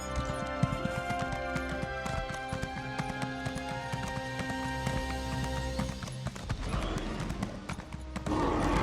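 Horse hooves clip-clopping in the video game Elder Scrolls Online, a steady rapid trotting rhythm of hoof strikes with a brief whinny, under game music and ambience.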